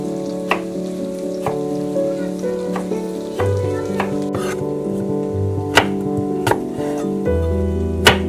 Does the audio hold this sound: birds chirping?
no